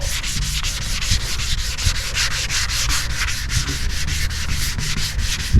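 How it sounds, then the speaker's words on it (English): Hands rub back and forth over a freshly spray-painted car panel checking for dry spray, a steady rhythmic dry swishing of skin on paint, close and fairly loud, with no talking. "we'll be able to rub over this with our hands and tell if it's still dry sprayed"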